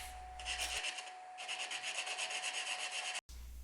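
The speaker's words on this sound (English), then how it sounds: "I hand sanded the inside edges of the legs to give a light roundover." Oak table legs, cut from old oak hardwood flooring, sanded by hand along their edges, a continuous close rubbing rasp in long even strokes with a short pause and a brief dropout near the end.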